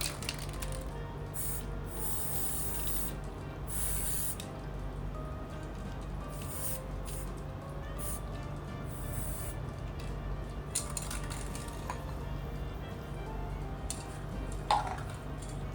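Cans of spray paint hiss in short, repeated bursts over a steady low hum of room noise, with a few faint clicks near the end.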